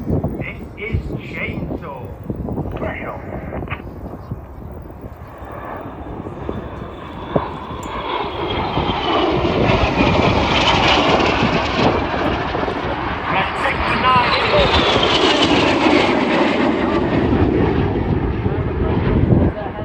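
Red Arrows RAF jets performing a flying display at an air show, a loud roaring engine sound that builds midway and stays strong and sustained, with wind buffeting the microphone and a commentator talking over it.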